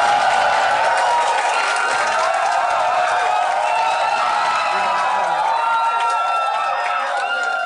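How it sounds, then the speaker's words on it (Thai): Audience in a packed room applauding and cheering to welcome a guest on stage at a business talk event, a steady, loud wash of clapping and crowd noise throughout. "ขอเสียงปรบมือต้อนรับพี่พุดดี้"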